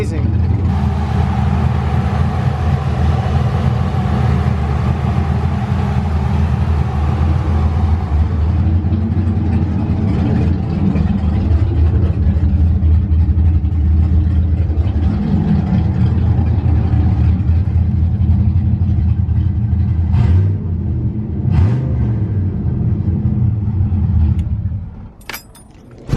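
A car engine runs hard and loud on a new Aeromotive 340lph fuel pump, holding a strong, steady roar through most of the stretch before it drops off sharply near the end, with no talk.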